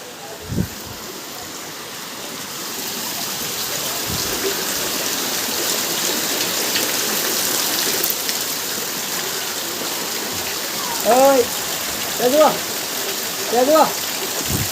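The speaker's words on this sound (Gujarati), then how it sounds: "આજે સિઝનનો પહેલો વરસાદ આવ્યો" Steady rain on the first monsoon downpour of the season, a dense even hiss filling the scene, with a few brief voices and chirpy calls rising over it near the end.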